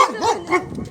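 A dog barks loudly and close by during a Pokémon Go gaming session, giving two or three quick, rough barks packed into one short burst. No one speaks over it.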